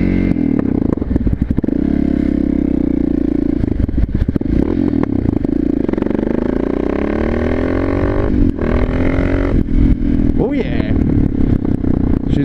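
Honda XR650 motorcycle on the move, a steady loud engine drone with shifting pitch and rev changes throughout, occasional rattles and wind buffeting, with a voice talking over it at times.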